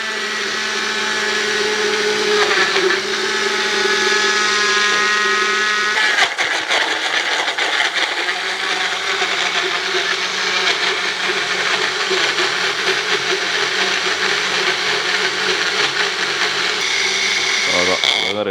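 Mixer grinder jar blending fruit for a smoothie, a loud steady motor whir running throughout, with a change in tone partway through as the blades churn the contents.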